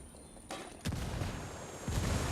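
Flashbang grenades go off in the tactical shooter Ghost Recon, several sharp bangs in quick succession followed by a dense, rumbling roar of detonations and gunfire that swells toward the end.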